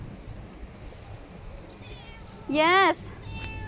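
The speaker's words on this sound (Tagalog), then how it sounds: "may sumunod sa akin na pusa" A stray cat meows once, a short, clear, rising-and-falling call on a street in Bahrain. It sounds close. Someone talks to it before and after the meow.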